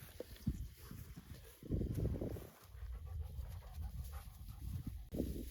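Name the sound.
dog panting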